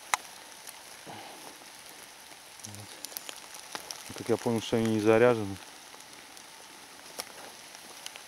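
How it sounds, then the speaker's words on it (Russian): Steady rain patters all around in an autumn taiga forest, a soft continuous hiss with scattered drops, while someone speaks briefly in Russian partway through. "Дождь, зараза, вообще разошелся."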